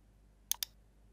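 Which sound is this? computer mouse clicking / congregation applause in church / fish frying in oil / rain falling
computer mouse clicking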